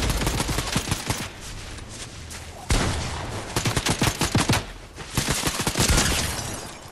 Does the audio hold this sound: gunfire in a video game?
yes